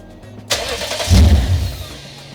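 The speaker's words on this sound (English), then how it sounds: "My brother's gonna start the car up right now." A Lexus ISF engine cranks and fires up close by, a quick starter whir rising into a deep rumbling catch, then settling toward a steady idle, with no talking.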